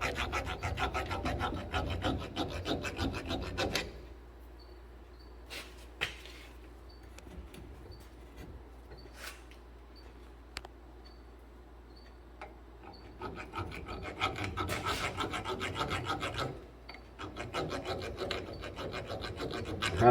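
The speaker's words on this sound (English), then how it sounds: "I'm using a thread file on it to clean up the threads a bit" A thread file rasps back and forth over the threads of a wheel bearing bolt on a 2017 Ram 1500 4x4, in steady scraping strokes that stop for a quieter stretch partway through and then resume.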